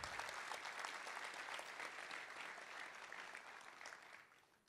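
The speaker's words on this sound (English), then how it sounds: "Round of applause." A seated audience claps together after a speaker at a marketing talk, a dense burst of applause that holds steady for a few seconds and then thins out as it ends.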